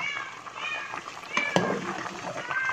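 A house cat meows repeatedly in a home kitchen, several drawn-out cries spread through the stretch, mid-distance and mixed with background household noise, no clear talking.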